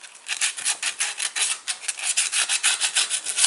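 Sander working a Briggs and Stratton engine part in quick rhythmic strokes, a steady loud rasping scrape with no talk, close up.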